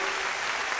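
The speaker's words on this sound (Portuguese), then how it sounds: "Você pode dar um aplauso ao Senhor?" Dense, steady applause from a church congregation, a continuous wash of many hands clapping together with no breaks.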